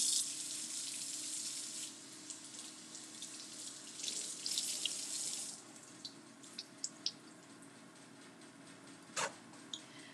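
A kitchen tap runs loudly as berries, including raspberries, are rinsed under it, a steady hissing water stream that stops after about five seconds, followed by scattered drips and small splashes.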